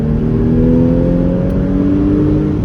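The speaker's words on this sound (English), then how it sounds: "So you can hear the lift off overrun. It is intense." Porsche Cayman 981 S engine on lift-off overrun, heard from inside while driving: a loud, steady engine drone holding high revs, with slowly shifting harmonic tones and no gear change.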